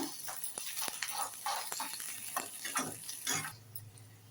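Shallots with a sprig of curry leaves being stirred and sautéed in a pan for brinjal drumstick sambar tempering, with soft scraping and clinks of the spoon against the pan over a faint sizzle.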